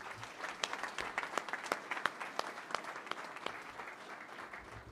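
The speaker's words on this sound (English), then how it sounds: "let's give her a round of applause for her accomplishment" Audience applause at a University of Idaho spring commencement in Idaho Falls, a sustained mass of clapping with distinct sharp claps standing out, rising and then gradually fading over a few seconds.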